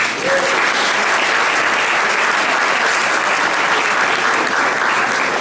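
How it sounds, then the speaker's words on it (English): A crowd applauds loudly and steadily, dense clapping that holds at an even level from start to finish. "Can you give them a round of applause?"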